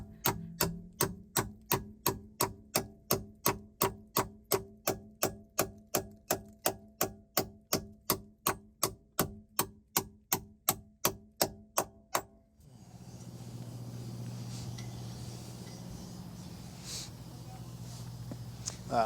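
Repeated sharp metallic hammer blows, about thirty evenly spaced close strikes, land on a bolt during a boat repair, then give way to a low steady wind rumble.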